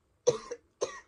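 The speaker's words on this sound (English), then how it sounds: "I coughed because I have a cold" Two short, close coughs from a person with a cold, the first with a quick double hack, the second half a second later, with silence around them.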